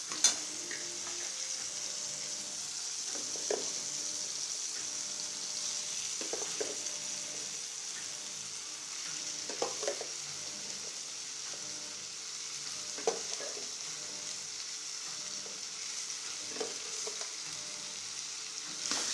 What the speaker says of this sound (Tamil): ஃபுல்லாக போட்டு கிளறலாம்.